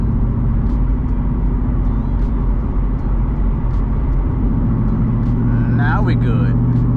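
A Ford Mustang drives along with a steady, loud low engine rumble and road noise throughout, shifting slightly in tone near the end, while a person talks over it.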